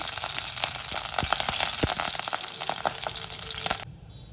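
Mustard seeds, garlic, curry leaves and dried red chillies sizzling in hot oil for a tempering, a dense crackling fry peppered with sharp popping bursts that cuts off abruptly near the end.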